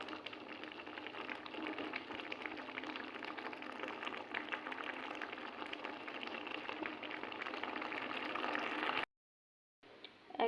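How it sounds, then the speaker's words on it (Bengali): Papaya chutney with cardamom boils in a wok, giving a steady, close bubbling hiss that runs continuously, then cuts out briefly and returns faintly at the end. "এইবার 1 মিনিট ফুটিয়ে নিয়েই আমি কড়াই থেকে চাটনি নামিয়ে নেব।"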